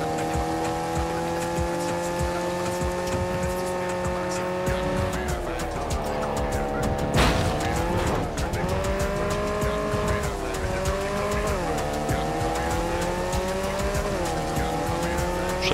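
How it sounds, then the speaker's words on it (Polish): A car in Cyberpunk 2077 drives in the rain, its engine loud and close, revving up and down in pitch shifts, with a sustained tire squeal and skidding along the way over a constant wash of noise. "Przy okazji przetestuję te auto, jak się sprawdza w takiej pogodzie."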